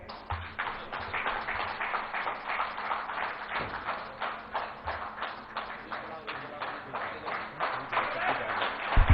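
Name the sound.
audience applause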